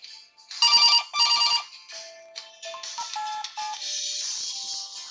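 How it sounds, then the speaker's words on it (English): A phone ringtone sounds in two loud bursts of repeated electronic tones, followed by a softer melodic ringtone that carries on steadily to the end. "We say the phone is ringing."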